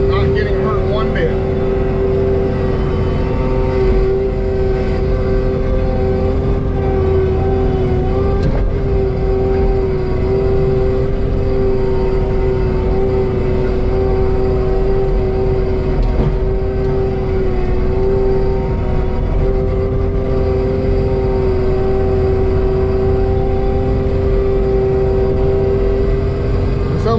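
A skid steer fitted with a mulcher grinds through brush, a loud continuous engine drone with a steady whine throughout, nearby and unbroken.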